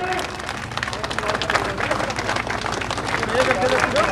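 Crowd applauding at an outdoor garlanding ceremony welcoming a district chairman in Mau, with steady, dense clapping throughout, mixed with crowd noise and voices nearby.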